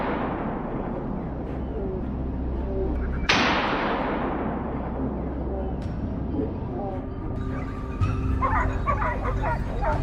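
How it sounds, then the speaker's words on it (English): Hunting dogs bark excitedly amid loud, busy outdoor noise in a pine forest during a wild boar hunt, with a sharp gunshot bang partway through and people shouting in the background. "Alarm barks echoed through the air, and Thomas and his team immediately braced"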